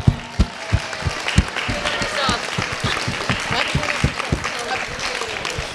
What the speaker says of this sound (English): how about we have another round of applause for all of our wonderful volunteers